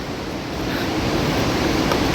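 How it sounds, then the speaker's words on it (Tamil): Fast-flowing mountain river water on the Kedarnath trek rushes in a loud, steady roar of dense white noise, close by and unbroken throughout. "தண்ணி பாருங்கள் இப்போ எவ்வளோ வேகமாக வந்துட்டுருக்கு."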